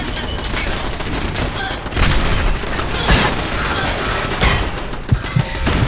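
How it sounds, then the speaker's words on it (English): Machine gun fire in a combat video game rattles in dense, continuous bursts with heavy booms and explosions layered throughout, loud and busy, with a voice speaking faintly underneath. "There's machine guns over there too."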